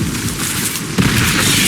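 Incendio fire spell cast in Hogwarts Legacy during a spider boss fight, a dense rushing whoosh of flame that flares up sharply about halfway through and then holds steady and loud.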